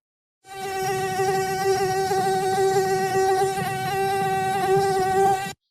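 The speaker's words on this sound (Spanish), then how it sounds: "Cuando un mosquito pasó zumbando a su alrededor." A mosquito buzzes in a steady, high, whining drone that holds nearly unchanged for about five seconds, close and alone.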